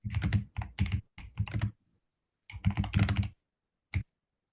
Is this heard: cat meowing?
no